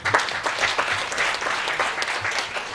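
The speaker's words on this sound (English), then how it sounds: "Please, let's clap for them." An audience at an official ceremony claps for an executive secretary and her team, giving a steady, moderately loud round of applause from many hands with no voices rising above it.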